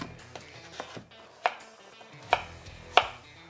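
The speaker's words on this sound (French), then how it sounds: "je vais juste couper mes patates douces des quatre côtés pour avoir un rectangle que je vais ensuite faire en carré" A knife chops sweet potatoes into squares on a board, giving a few sharp, separate cuts spaced about a second apart, close and clear with nothing else audible.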